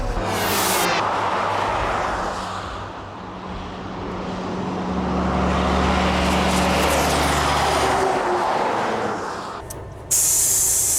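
A loud, steady rush of hissing air from a truck's air-suspension seat being adjusted runs for several seconds with engine-like rumble underneath, swelling and easing before stopping abruptly.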